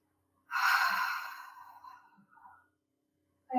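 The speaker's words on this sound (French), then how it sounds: "Deuxième grande inspiration. Grande expiration." One deep breath in and a long, full exhale during a hip-release stretching and breathing exercise, close and clear, then silence and the start of the next breath.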